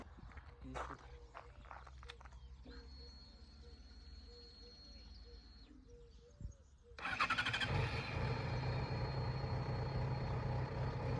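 A Yamaha XJ6 motorcycle, freshly refilled with Motul 7100 oil, cranks and fires up after a quiet stretch of shuffling and clinks, then settles into a steady, rumbling idle that runs on to the end.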